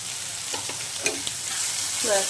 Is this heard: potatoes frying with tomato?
yes